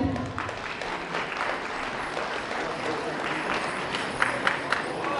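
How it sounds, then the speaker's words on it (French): Crowd applauding the mayor as he takes the stage at a Hmong New Year celebration in Irigny, France: sustained, even clapping from a large audience with a few sharper claps near the end. "Merci de l'applaudir."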